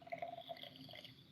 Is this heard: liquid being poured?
yes